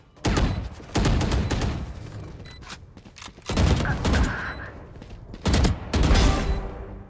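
Gunfire in the shooter Valorant comes as several loud, close bursts of rapid shots separated by short pauses, with faint game tones and a quiet voice in the background.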